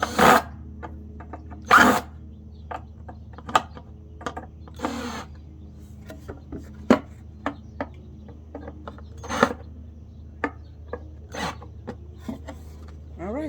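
Sharp clicks and ratcheting taps come from tightening brackets on a homemade wooden fishing line spooler, scattered irregularly at close range with a few louder knocks.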